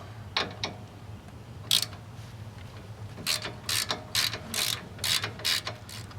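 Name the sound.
1/4 inch ratchet tightening bolt on 2004 Chevrolet Colorado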